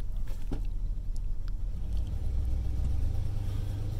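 Long black Cadillac pulling out of a lower yard and driving off, a steady low engine rumble and road noise close by with a brief knock early on and no talk.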